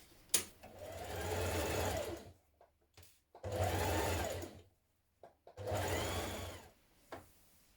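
A sewing machine stitches sleeves into a top in three runs of about two seconds each, close and steady, with brief pauses and small clicks between them.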